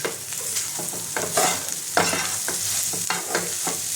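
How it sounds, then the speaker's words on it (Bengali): Ginger, garlic and green chilli frying in a pan for chicken patis, with a steady sizzle and repeated spatula scrapes and stirs throughout, close and fairly loud, no talking. "আদা রসুন আর কাঁচা লঙ্কাটা আমি দিয়ে দিলাম। এটাকে একটু নেড়ে নেবো, আমি হালকা নেড়ে নেবো।"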